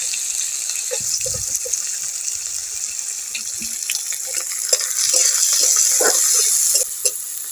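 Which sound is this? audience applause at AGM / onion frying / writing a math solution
onion frying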